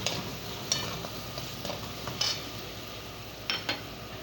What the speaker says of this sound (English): You fry the sausage and onion together first. Now add your garlic.